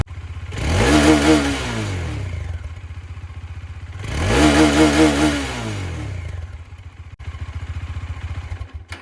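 A Bajaj Dominar motorcycle with its stock silencer fitted revs hard twice, each throttle blip swelling and falling over about two seconds, then settles into a steady, close idle.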